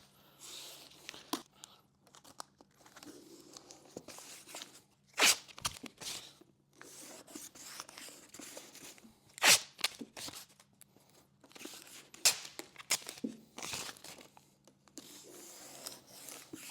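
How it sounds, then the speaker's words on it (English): Masking tape pulled off a roll around the grill on the lid of a 2014-2021 Harley CVO Street Glide: several sharp tearing rips at irregular intervals, with quieter crinkling and handling noises between them. "So I'm going to tape off around the grill"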